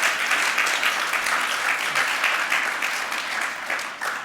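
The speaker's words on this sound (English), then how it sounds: "Can I get a massive round of applause?" Dense, loud applause from a conference audience after a security talk at AusCERT 2024, sustained and even throughout with no voices over it.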